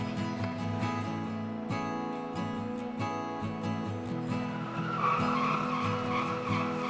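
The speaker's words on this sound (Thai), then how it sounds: "เรารอติดเครื่องยนต์ แล้วก็เอา หัวพล็อปเสียบเข้าไปใน ท่อไอเสีย แล้วก็ทำการเหยียบคันเร่งตามวิธีการตรวจ" A car engine is revved repeatedly with a probe in the tailpipe during a black-smoke exhaust emissions test, its tone rising and falling in short bursts at close range.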